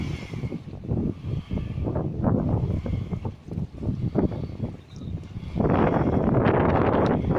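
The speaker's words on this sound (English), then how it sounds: "Maybe the noise is getting caused by the ferry, because it's quite windy." Gusty wind buffets the microphone while a low, rumbling ferry engine at Pier Head, Liverpool drones beneath, swelling louder toward the end; no one speaks.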